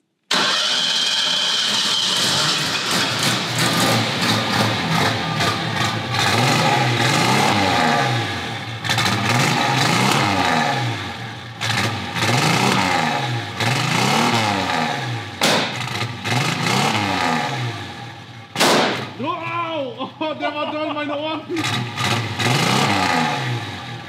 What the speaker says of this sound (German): Ja, Philipp, zeig mal, wie ein richtiger Redneck ein Auto startet